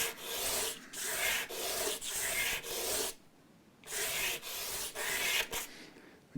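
Someone hand-sands the back of an acrylic LED sign with a file or sanding block, making about eight rhythmic, close scraping strokes, a short pause, then several more strokes.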